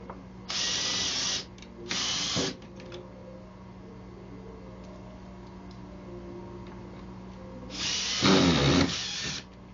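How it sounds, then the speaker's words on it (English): A power drill drives screws into a wall stud in two short whirring bursts, then a longer, louder burst that bogs down as the screw seats, with quiet pauses between. "Put a couple screws in this"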